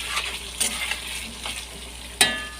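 Green chilli pickle being stirred with salt in a pan, a few scraping spoon strokes over a light sizzle, with a sharp metallic clink near the end; no voices.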